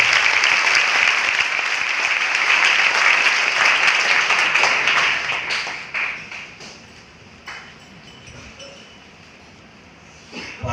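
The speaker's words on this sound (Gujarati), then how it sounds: "જોરદાર તાળીઓથી શ્રીજીચરણ સ્વામીને આપણે" An audience at a religious camp gathering in Dwarka breaks into loud, sustained clapping that thins out midway and fades to scattered claps, with a few light clinks near the end.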